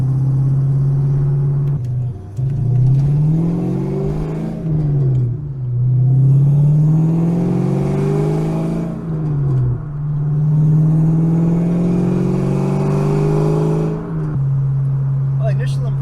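A vehicle on new suspension cruises along a road with a steady, smooth engine drone whose pitch rises and dips with gear changes, close and continuous throughout.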